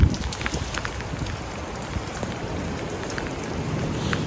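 Steady rain falling outdoors at a condominium complex under construction in Quezon City, a constant hiss of drops with occasional sharper patters, moderately loud with no talking.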